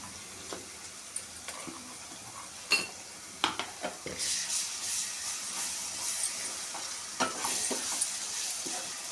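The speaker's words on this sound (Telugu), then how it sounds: "అల్లం వేగాలి మంచిగా." Ginger frying with onions in a pan gives a soft steady sizzle, broken by sharp clinks and scrapes of a spoon stirring against the metal, with bursts of louder hissing.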